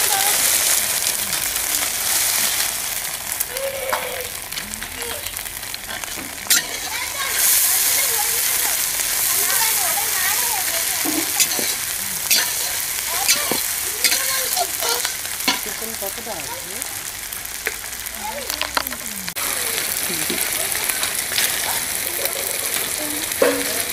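Garlic, ginger and onion fry and get stirred in a pan at a home family picnic, a steady crackling sizzle with scraping stirs throughout, fairly loud, while people chatter in the background.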